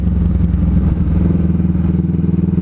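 A Honda CMX500 Rebel motorcycle runs close by, its engine a loud, throbbing low rumble with rhythmic pulsing as it rides.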